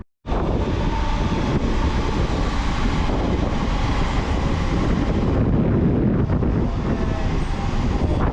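A Class 350 train rushes through Bushey station, a loud continuous roar of wheels and wind that holds steady close by for several seconds.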